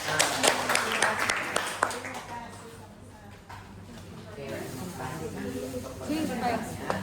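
Audience clapping at a pharmacy students' health-promotion session on drug and food interactions, with bursts of handclaps mixed with voices, then dying down before the talking resumes.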